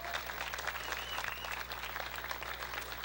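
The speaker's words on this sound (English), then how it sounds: "Those two guys need a round of applause because they were instrumental" An audience gives a round of applause at a surfing walk of fame ceremony, a dense, steady patter of clapping hands heard from a distance and fairly faint for about three seconds.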